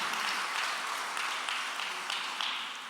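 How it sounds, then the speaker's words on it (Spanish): Congregation in a church breaking into sustained applause, a dense, steady wash of many hands clapping together with faint voices mixed in, holding at an even level throughout. "Denle un fuerte aplauso al Señor."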